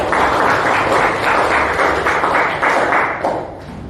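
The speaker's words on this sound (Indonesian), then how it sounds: "Oke, tepuk tangan untuk semuanya." A classroom full of people claps in a brief burst of applause, fairly loud and close, fading out near the end.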